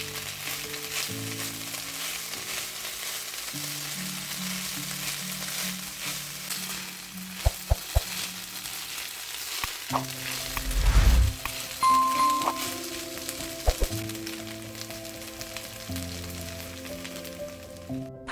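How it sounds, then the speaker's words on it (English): Cooked rice is stirred into vegetables frying in a pan, a steady close sizzle broken by sharp utensil knocks and a scraping burst of stirring, with background music running throughout. "Stir the cooked rice into the vegetables."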